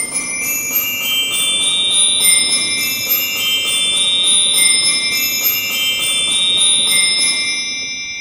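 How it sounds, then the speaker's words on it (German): A carillon glockenspiel stop on a church organ in Waldbröl rings out bright, sustained bell tones in a steady repeated pattern, loud and close, fading at the end. "Ein Glockenspiel, ein sogenanntes Carillon."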